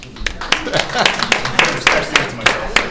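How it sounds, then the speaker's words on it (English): Audience clapping at a real estate investor seminar, a few individual hands striking in a loose, uneven rhythm, close and sparse rather than a full crowd. "Give Brian a round of applause"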